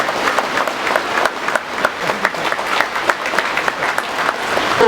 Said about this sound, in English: Let us put our hands together and give them a big applause.